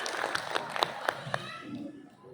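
An audience applauds at a motivational speech during an inauguration event, with scattered claps popping over a murmuring crowd and some voices. The sound is faint and distant, then tapers off.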